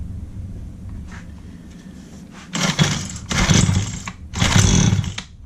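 A Craftsman 55cc chainsaw, just fitted with a new carburetor, sputters to life after a quiet idle-like murmur, then fires in three loud, rough bursts of revving up close.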